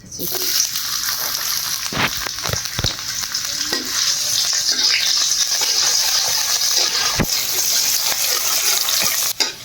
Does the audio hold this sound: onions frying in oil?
yes